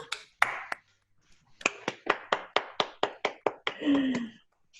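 A small group claps in a steady beat of about a dozen sharp, close claps with arms raised for a final photo, then a short spoken remark at the end.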